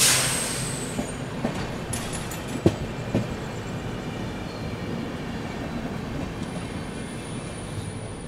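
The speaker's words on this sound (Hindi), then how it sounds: "और सामने है सियालदह न्यू दिल्ली राजधानी एक्सप्रेस।" Sealdah–New Delhi Rajdhani Express train passing with a continuous broad rumble of wheels and carriages, a few sharp clanks near the start and a faint high squeal, moderately loud and steady throughout without speech.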